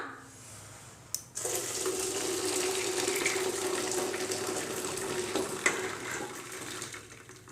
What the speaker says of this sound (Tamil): அதில் நம்ம ஜவ்வரிசியை ஊற்றிடலாம்.